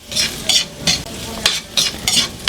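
Garlic fries with ginger in a pan, a busy close sizzle broken by repeated scraping stirs about every half second.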